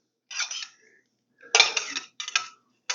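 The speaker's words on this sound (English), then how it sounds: "I'm using a slotted spoon on this so I don't get a lot of extra liquid into the plate." A slotted spoon serving cooked carrots onto a plate gives three short bursts of metallic scraping and clinking against the dish, separated by brief silences, close and clear.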